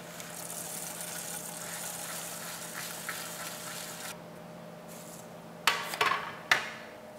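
A hammer strikes a manual coffee thresher to secure it, with three sharp metallic knocks in quick succession late in the clip, following several seconds of steady background hum.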